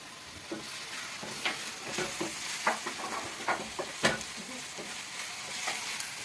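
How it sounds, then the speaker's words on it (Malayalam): Curry leaves and green chilies being sautéed in a pan for a fish dish, giving a steady soft sizzle broken by repeated scraping and stirring clicks from a spoon, fairly close and alone without talk. "ഇനി നല്ലപോലെ വഴറ്റി തരണം."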